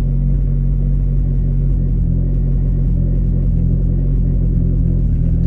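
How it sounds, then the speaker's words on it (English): A Honda car engine runs steadily with a deep, loud low rumble that holds constant throughout, close-up and without speech. "So now once the car is running"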